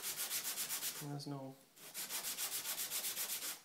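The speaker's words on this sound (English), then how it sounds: "I'm just gonna finish sanding these, just the sides, and make sure they're nice and smooth." Rhythmic back-and-forth hand sanding strokes on the sides of wooden lantern pieces, close and steady, briefly interrupted by a short spoken phrase before the rasping resumes.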